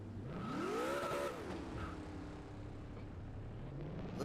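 A NASCAR stock car doing a post-race burnout in NASCAR Racing 4 revs hard: the engine climbs sharply in pitch, holds, then drops back to a steadier roar under a hiss of spinning tires.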